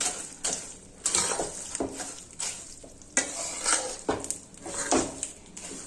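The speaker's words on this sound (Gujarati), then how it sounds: "હવે ગોળ પ્રોપર રીતે મિક્સ થઈ જાય ત્યાં સુધી આપણે તેને મિક્સ કરીશું આ રીતે" Grated jaggery is stirred into a thick adadiya pak mixture in a pan, with repeated scraping strokes in an irregular rhythm over a soft sizzle, close by and moderately loud.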